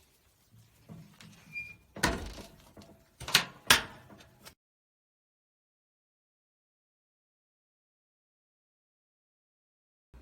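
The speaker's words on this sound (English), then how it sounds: "for now we're going to close up the door" Door of a Lang 48 offset smoker being closed, a few scraping and clunking metal knocks close by over about four seconds, followed by silence.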